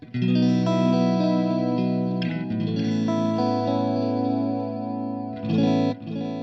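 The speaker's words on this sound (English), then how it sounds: "there's a different quality here on this delay when you take out the high end and you add in the modulation" An electric guitar runs through a JHS Pink Panther delay pedal with modulation added and the high end rolled off, sustained chords washing into warm, wobbling, darkened repeats that blur together continuously, close and alone.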